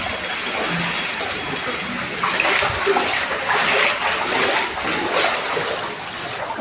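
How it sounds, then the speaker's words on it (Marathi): Flood water from the Patalganga river dam breach cascading through a house in Kelavane, Raigad, like a waterfall, a loud continuous rushing pour with surging splashes and a faint voice in the background. "बापरे, घराला चक्क धबधब्याचं स्वरूप प्राप्त झालंय बघा."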